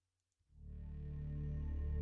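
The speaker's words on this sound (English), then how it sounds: "It's just a simple sawtooth with some reverb" A simple sawtooth synth tone with reverb fades in after a short silence, swelling into a sustained, buzzy, harmonically rich drone that keeps growing louder without a break.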